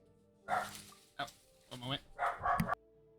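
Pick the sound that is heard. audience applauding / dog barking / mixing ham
dog barking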